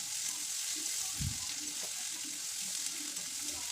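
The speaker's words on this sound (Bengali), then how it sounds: "এখন আমি পেঁয়াজগুলোকে পুরো লাল লাল করে ভেজে নেব।" Sliced onions fry with ginger-garlic paste and chili paste for an egg-potato curry, giving a steady broad hiss of sizzling oil with a soft thump near the middle and a few faint scrapes of stirring.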